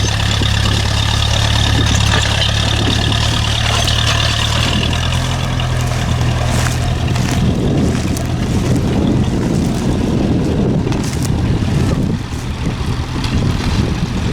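Small vintage four-wheel-drive tractor ploughing at an outdoor rally in South Gloucestershire, its engine chugging steadily with a low throbbing rumble, moderately close and continuous, with a faint shift in tone near the end.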